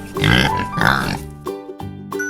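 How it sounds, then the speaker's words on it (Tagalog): A pig grunts in a few short, throaty bursts close up, with light music playing underneath. "pig."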